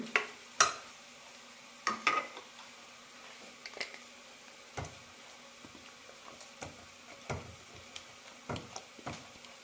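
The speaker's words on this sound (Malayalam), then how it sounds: "ഇനി ഇതിലേക്ക് അരപ്പൊഴിക്കാം" Ground coconut paste poured into a cooked raw banana and horse gram curry, then stirred, giving scattered sharp spoon clinks against the pot and soft scraping over a quiet background.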